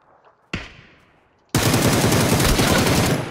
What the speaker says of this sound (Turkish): hep SKS ile vuruyorum